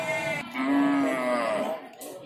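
A local Javanese cow at a livestock market gives one long, loud, close moo, followed by a short trailing call.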